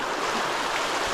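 Several mountain streams rush through old diversion channels at a Tasmanian osmiridium mine site, a steady broadband water roar filling the whole moment without pause.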